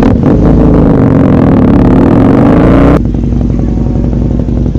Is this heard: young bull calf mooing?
no